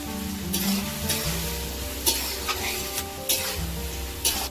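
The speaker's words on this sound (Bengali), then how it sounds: "বেশি করেই পেঁয়াজ দিয়েছি। দিয়ে ভালো করে নেড়ে নেব।" Onions sizzling in hot oil in a pan for a turtle meat curry, with steady frying hiss and periodic scrapes and clacks of a spoon stirring them, close and continuous with no talking.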